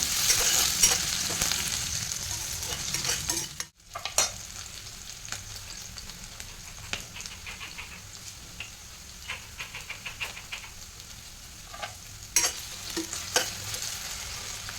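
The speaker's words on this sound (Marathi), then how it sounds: "बटाटा छान तेलामध्ये असा परतून घ्यायचा क्रिस्पी होईपर्यंत" Finely chopped potatoes fry in oil in a kadhai for sabudana khichdi, a loud continuous sizzle with frequent scraping and clinking of a spatula as they are stirred, and one brief pause near the start.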